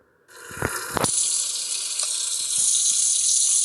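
Water running in the Avatar World mobile game, starting with a couple of short taps and then settling into a steady, bright hiss of flowing water that grows slightly louder.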